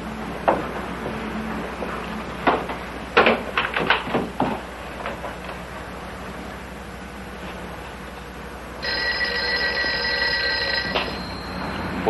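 An old 1950s telephone bell rings with a steady, sustained electric trill that starts partway through and lasts a couple of seconds, following several scattered knocks and clatters in an otherwise quiet room.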